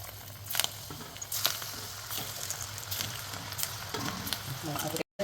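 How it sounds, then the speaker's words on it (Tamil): Small gram flour pakoda balls deep frying in hot oil, a steady close crackling sizzle with scattered pops, continuous and alone before a brief cut near the end. "உருட்டிட்டு எண்ணெயில் போட்டு பொரித்து எடுத்து"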